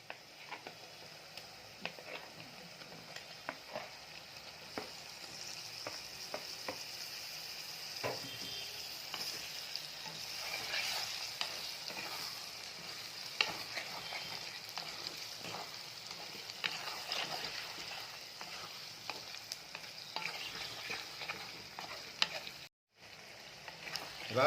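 Eggs, yolks included, are stirred as they fry with garlic chili paste in a pan. A quiet, steady sizzle carries through with soft scraping and ticking from the stirring, and a brief gap near the end.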